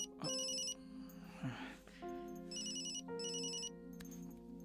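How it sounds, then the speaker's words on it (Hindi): A phone rings inside a moving car, its electronic ringtone repeating in loud, clear bursts over a steady low engine hum. "तुम्हारे घर से फोन है, ये लो"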